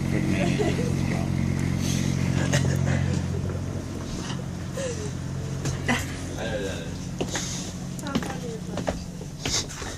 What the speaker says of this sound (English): When we start the main engines, you should see water coming out for the main engines as well